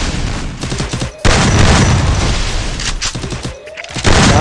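Loud, dense bursts of automatic gunfire and heavy impacts from a multiplayer shooter video game, rapid rattling volleys filling the clip with brief gaps between them.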